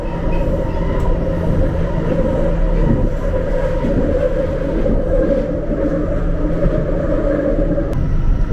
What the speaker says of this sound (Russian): Больше всего претензий у пассажиров это к шуму на этой линии, как вы слышите.